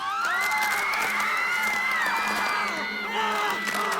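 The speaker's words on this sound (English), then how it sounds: "the crowd around her became louder and started whistling and roaring." A dense game crowd roars and cheers with shrill whistles and whoops layered over a steady wall of voices, loud and continuous throughout, swelling slightly toward the end.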